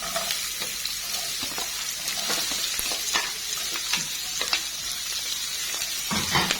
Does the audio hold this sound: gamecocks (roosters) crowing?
no